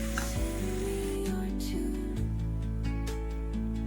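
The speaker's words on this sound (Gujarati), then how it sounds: "હવે આ વઘાર આપણે દાળમાં નાખીશું." Hot spice tempering with Kashmiri chili poured into Gujarati dal sets off a loud, steady sizzle that runs continuously for a few seconds with soft clatter of the pan, no talking.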